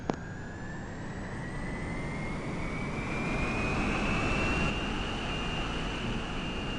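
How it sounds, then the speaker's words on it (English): A jet-powered aircraft takes off in the SimplePlanes video game, its engine roar holding steady as a whining tone climbs gradually in pitch, heard alone and fairly loud throughout. "Let's also do an outside view takeoff."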